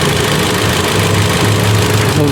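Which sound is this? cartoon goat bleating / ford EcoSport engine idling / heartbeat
ford EcoSport engine idling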